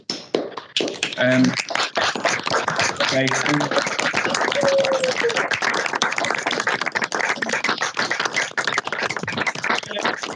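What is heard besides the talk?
audience applause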